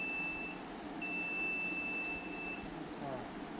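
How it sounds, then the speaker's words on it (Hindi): Steady high-pitched electronic beeping from an ultrasonic sensor alarm triggered within a one-metre range, over a constant low background hum, with a brief gap before the tone resumes. "ये बीप बीप आवाज़ कर रहा है, अलार्म बज रही है"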